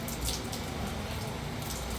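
Steady rain falling outdoors, a constant even hiss of drops with no breaks, heard alone.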